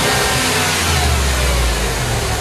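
Jeep Grand Cherokee Hemi V8 with a new aftermarket cold air intake, engine droning loudly up close and swelling through a rev, with no talking.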